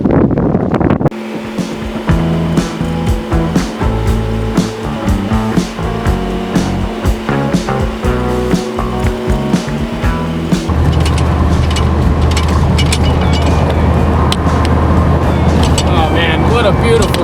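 An older second-generation Dodge pickup cruises a desert road through the California hills, its engine and tire roar droning steadily with heavy wind rush buffeting throughout, the tone shifting lower partway through.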